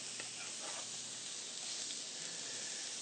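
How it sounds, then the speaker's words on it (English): Julienned fennel and other vegetables sautéing in a hot pan during a holiday cooking show, a steady close sizzle and hiss running evenly throughout with no voices. "we're going to saute these vegetables until soft"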